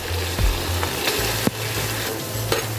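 Chicken in a lemon and black pepper shawarma marinade cooking in a pan, a loud close sizzle with a few sharp stirring scrapes and clacks, no talking.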